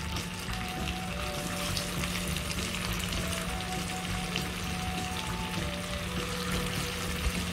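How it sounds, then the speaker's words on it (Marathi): Hara bhara kababs shallow frying in hot oil in a pan give a dense, even crackling sizzle that stays steady and close throughout, with faint clinks, like utensils touching, and no voices. "तेल गरम झालेलं आहे. आता मी एक एक कबाब प्लेट सोडते."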